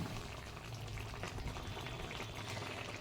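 Curry broth with bitter greens boils in a pot on a gas stove, a faint, steady bubbling and soft churning that carries on without a break and with no voices.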